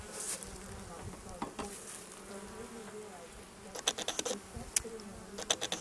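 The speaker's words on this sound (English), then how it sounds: "these are worker bees, female worker bees" Worker honey bees buzz on a hive frame as a steady, fairly faint hum, with a few closer buzzes and scattered clicking sounds toward the end.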